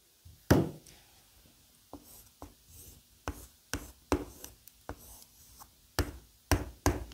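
Brush or pen writing Chinese characters by hand, a series of separate sharp taps and short scratchy strokes spaced irregularly, close and clear with no talking.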